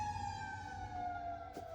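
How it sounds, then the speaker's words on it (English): An ambulance siren outside, faint and distant, holding a steady high wail that slowly drops in pitch as it passes, over a low hum. "Got some ambulance. Hopefully everybody all right out there."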